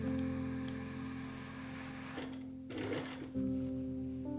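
Sewing machine stitching bias tape onto the bodice of an 1860s-style gown, a steady close mechanical whirr with light ticking and a brief pause before it starts again.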